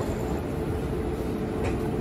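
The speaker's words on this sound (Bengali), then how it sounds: "ট্রেনটা মালদা স্টেশন থেকে রাইট টাইম 2:30 ছেড়ে দিল।" The Uttarbanga Express pulls out of Malda station in a steady, loud rumble of rolling wagons that fills the whole stretch, with no voices over it.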